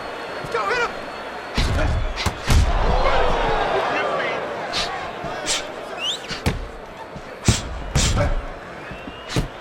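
Boxing punches landing and a blocked headshot in the Fight Night 4 video game, a run of dull thuds and sharp impacts over arena crowd noise, with a commentator talking throughout.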